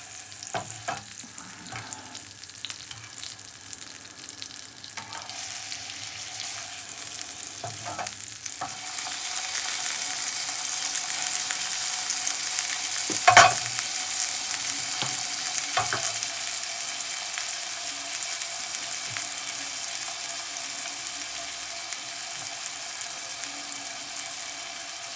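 Burger ingredients fried and stirred around a pan, a steady close sizzle with scraping from the utensil and one sharp knock partway through, with no talking.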